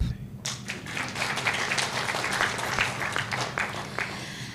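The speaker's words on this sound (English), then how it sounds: "You should clap." Audience applause at an International Women's Day event, a dense, steady burst of many hands clapping that swells quickly and holds loud and close for several seconds.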